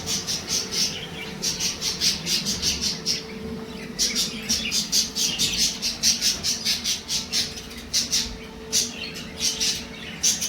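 Pet birds in a breeding setup chirp and squawk in quick repeated bursts while a father bird feeds its chick, a steady busy chorus of sharp calls running the whole time without talk.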